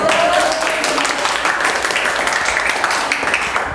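A classroom group applauds a student named Natasha during a teaching practice lesson, giving a short burst of dense, steady clapping from several people nearby.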